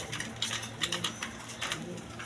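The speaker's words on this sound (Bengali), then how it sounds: "সুস্থ সবল কবুতর" Pigeons offered for sale give soft, low cooing murmurs close by, with a few light taps and rustles and no speech.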